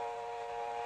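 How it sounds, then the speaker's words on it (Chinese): A steady, sustained steam whistle from a train sounds briefly and faintly, a single unbroken tone. "火车"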